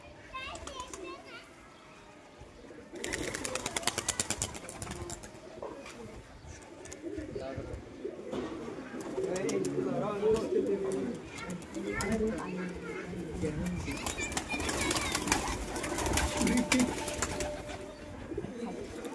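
Pigeons coo at a pigeon sale, a soft, steady cooing under bursts of children playing and nearby voices throughout.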